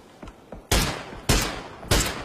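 Bursts of video game gunfire in a shooter match: a few faint pops, then three loud, broad blasts spaced roughly half a second apart, each trailing off, with no talk.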